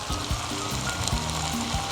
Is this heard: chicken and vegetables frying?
yes